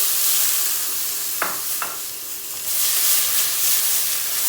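Tomatoes tip into sautéed peppers frying in a pot, raising a loud, steady hiss and sizzle that swells near the end, with a couple of brief utensil knocks in between and no talking.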